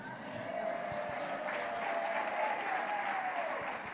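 A church congregation claps and cheers continuously in a dense, steady wash of applause that carries at a moderate distance for the whole stretch.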